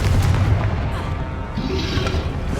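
A Confringo fire spell blasts in the Hogwarts Legacy video game, a dense booming burst that rumbles low and stays loud through the whole stretch, with no talking over it.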